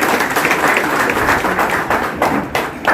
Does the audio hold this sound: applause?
yes